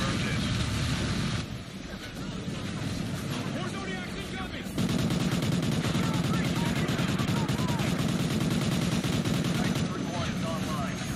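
Light machine gun fire from a Call of Duty: Ghosts campaign battle rattles continuously in dense, loud bursts, mixed with heavy combat noise and engine roar while radio voices talk over it.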